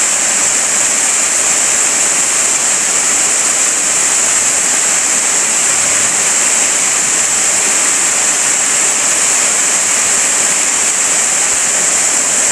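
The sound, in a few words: Kitekite Falls waterfall at Piha, New Zealand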